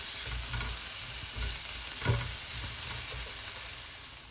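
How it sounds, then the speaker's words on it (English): Garlic and chili fry in a pan for a Fiji-style potato and eggplant curry, giving a steady close sizzle with a few soft stirring scrapes and thumps, alone with no talk. "Now to that I'll add in my garlic and chili, and we'll fry this off for 2 to 3 minutes"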